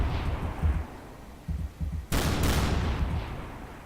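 Guns firing rapidly in Garry's Mod, a dense stream of loud, overlapping shots and booms that swells into a sharp burst midway, with no voice over it.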